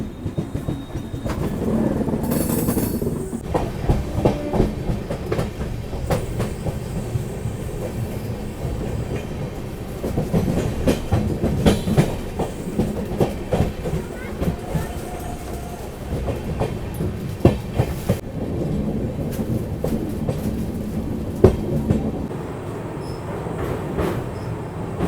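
The Gorakhdham Express, hauled by a WAP-7 locomotive, runs across the Rohini river just after Gorakhpur Junction, with loud continuous rumbling, rhythmic wheel clatter over rail joints and occasional metallic squeals heard from on board.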